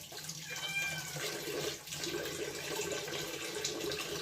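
Water runs steadily from a tap into a pot for tea, a continuous splashing rush with a brief dip partway through.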